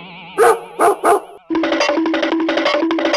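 A dog trapped under an empty tin can barks and yips loudly, three echoing barks followed by a rapid, continuous run of yelping barks, close and alone.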